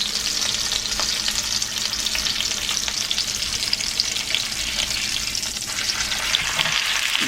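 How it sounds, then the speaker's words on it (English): A beef fillet searing in a hot pan, a loud, dense, unbroken sizzle held close up throughout with faint shifting underneath. "Remember to sear both ends."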